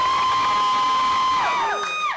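A live crowd at a rap battle roars and whoops in sustained cheering for AJayW, loud and close, with high voices rising and falling as the noise tails off.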